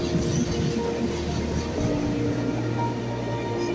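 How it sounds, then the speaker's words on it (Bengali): A Lokmanya Tilak–Azamgarh superfast express runs through Nashik Road station without stopping, making a steady, loud rumble with a drone of wheels and carriages throughout. "লোকমান্য তিলক আজমগড় সুপারফাস্ট, এটা এখানে দাঁড়ায় না, এটা নাসিক রোড স্টেশন"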